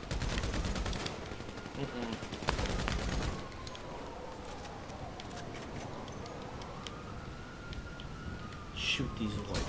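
Rapid machine gun fire in the GTA video game, with dense bursts of shots early on that thin to scattered pops, heard alongside game ambience and a player's voice.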